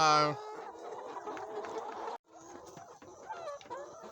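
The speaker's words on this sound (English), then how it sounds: "is it the cracking or the cackling sound? that the chickens are making" Hens about to start laying cluck and cackle in a run of short, uneven calls, close by, with a brief break partway through.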